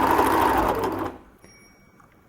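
A sewing machine stitches the bottom seam of a fabric pouch with a loud, steady, close whir for about a second, then stops abruptly, leaving a quiet room with a faint click at the end.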